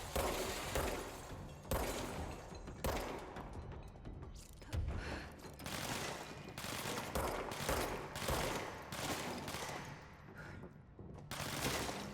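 Gunfire in the game Control, a dense run of sharp shots and bursts packed close together over about twelve seconds, loud and continuous with rumbling impacts and shattering hits mixed in.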